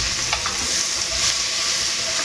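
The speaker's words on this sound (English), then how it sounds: "This will take about 3 to 4 minutes for the flour to cook." Flour cooks with onions into a roux for broccoli cheese soup, a bright steady sizzle close by with a few sharp stirring clicks near the start.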